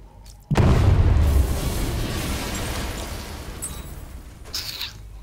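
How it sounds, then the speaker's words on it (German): A loud in-game blast at a security door in Batman Arkham Knight erupts suddenly, a deep booming burst that trails off into a long rumbling roar with scattered debris noise, heard alone. "Ich sollte Abstand zur Sicherheitstür halten, sonst bin ich im Explosionsradius."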